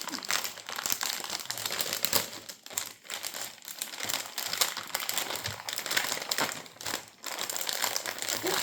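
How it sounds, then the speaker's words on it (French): Close, continuous crinkling of plastic packaging, with irregular crackles and rustles as it is handled, no voices. "je m'excuse par avance pour le bruit des plastiques."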